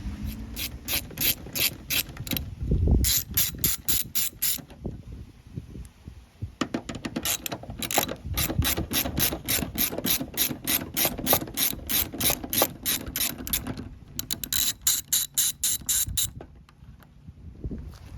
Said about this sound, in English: next you need to remove these two 10mm bolts